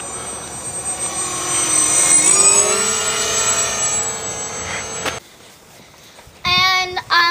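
A radio-controlled J-20 Chinese fighter jet model flies with a loud, steady motor whine that rises in pitch, then cuts off, leaving a quieter stretch before a short louder burst at the end.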